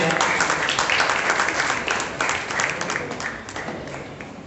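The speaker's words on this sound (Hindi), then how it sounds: "मैं आपसे गुजारिश करता हूँ कि इनके लिए जोरदार तालियां हो जाएं।" Applause from the audience at an award ceremony hall in Malegaon, a dense, steady wash of clapping that fades slightly toward the end.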